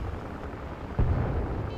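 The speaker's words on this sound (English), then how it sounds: "I can still hear a mortar going off right now to our right." A distant mortar round going off in the Arma Reforger military game, a single muffled low boom rolling out briefly over steady background rumble.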